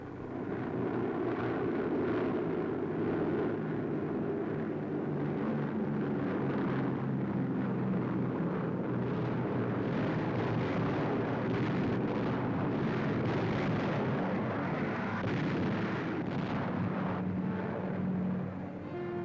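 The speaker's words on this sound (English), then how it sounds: "Allied bombers swarm across the Mediterranean, softening Italian island strongholds with overwhelming air power." Allied bombers in 1943 attack Italian island strongholds in the Mediterranean, such as Pantelleria. A loud, continuous droning roar of aircraft mixes with deep rumbling blasts and never lets up.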